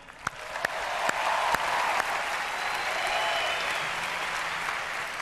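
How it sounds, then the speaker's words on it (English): A large audience at the 2011 ESPYS awards ceremony breaks into sustained, full applause, dense and even throughout with a few sharper claps standing out. "How about a round of applause for Phil Jackson?"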